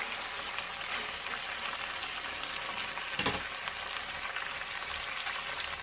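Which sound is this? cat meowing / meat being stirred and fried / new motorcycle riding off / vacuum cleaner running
meat being stirred and fried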